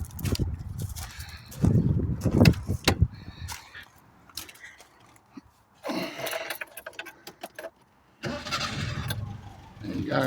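An old project car in a home garage, in need of brakes, tyres and a tune-up, cranks briefly and fires on the first turn, its engine catching in short rough bursts between quiet gaps, recorded up close.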